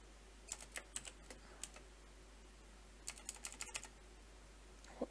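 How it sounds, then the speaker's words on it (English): Bursts of computer keyboard typing on a PC, quiet and close, with a cluster of keystrokes early on, a pause, then another quick run of keys and a final tap. "I'll type it again then."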